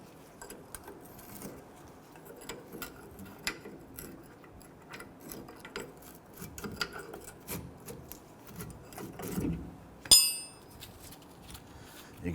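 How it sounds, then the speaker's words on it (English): A small pry bar works a rear brake caliper off a Nissan Frontier, making faint scattered metallic ticks and scrapes with one sharper clank near the end, quiet and close. "I'm going to use a small pry bar here to go ahead and work this off"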